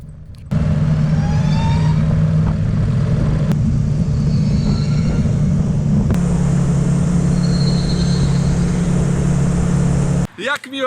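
A smooth electric whine rises in pitch as a Harley-Davidson LiveWire electric motorcycle accelerates, steady and fairly close, with a low hum underneath and a brief break near the end.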